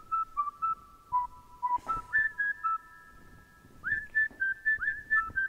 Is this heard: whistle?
yes